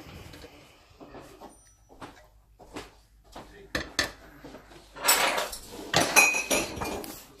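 Cookie dough with flour and baking soda being mixed in a bowl: a spoon knocks and scrapes irregularly against the sides, building to busier, louder clattering toward the end.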